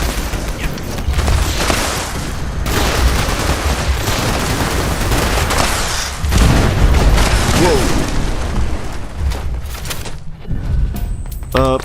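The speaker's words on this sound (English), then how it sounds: "I'm holding it a similar way, and it's shooting exploding bullets." Explosive-round gunfire in Fallout 76, with a rapid run of loud bursts and booms that packs nearly the whole stretch, dips briefly near the end and then resumes.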